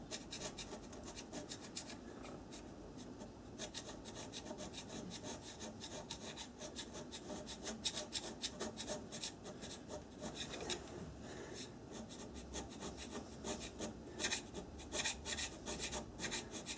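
A hand scraper works the cast-iron bed of a Myford lathe, short rasping strokes repeating in a steady stream throughout, close but fairly quiet, with no voices over it.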